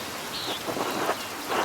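Steady rainfall in the video game Pentiment, a close, even hiss of rain with soft patter, continuous and alone without voices.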